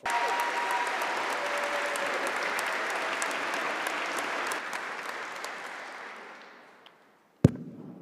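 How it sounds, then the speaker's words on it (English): A large graduation ceremony audience claps in a loud, sustained round of applause that holds steady for about six seconds, then tapers off and fades out, followed by a single sharp knock. "we're going to start by setting the tone with the biggest round of applause so far"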